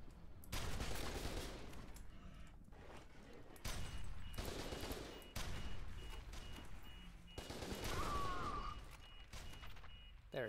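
Heavy gunfire during a sniper encounter in F.E.A.R. 2: Project Origin comes in three long, loud bursts of rattling shots separated by short gaps, with faint voices and other game sounds underneath.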